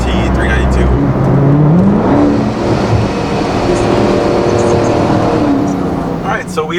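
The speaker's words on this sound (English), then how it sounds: "There's a SRT 392." A Dodge SRT 392 engine rumbles loud and close, with a deep drone that rises and falls as the car moves, while someone talks over it.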